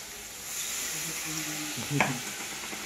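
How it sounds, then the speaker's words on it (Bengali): Tamarind being stirred into spices frying in a pan, a soft steady sizzle with a faint scrape of the spoon against the pan and a small knock near the end, quiet and close. "এবারে তেঁতুলটা দিয়ে কিছুক্ষণ চালাবো"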